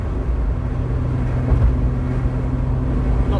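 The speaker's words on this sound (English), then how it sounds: "Every time I'm on the throttle a little bit, it just whines like crazy." Steady drivetrain drone from a 1977 Toyota Celica RA28 with a whining differential or gearbox under throttle, a continuous close hum with a faint tonal whine riding over engine and road noise, no talk.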